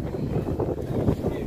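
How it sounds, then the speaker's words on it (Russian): Strong wind buffets the microphone in low, rumbling gusts for a brief moment, with no clear speech. "Очень сильный ветер."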